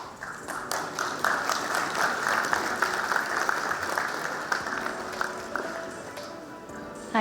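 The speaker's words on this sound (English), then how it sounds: "Let's have a bigger round of applause for them, please." Audience at a fintech conference session applauds with a sustained, fairly loud round of clapping that stays steady for several seconds.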